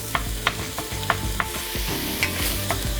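Spicy Italian sausage, casings removed and broken up, fries in a pan with a steady close sizzle, broken by sharp scraping stirs every half second or so. No one talks.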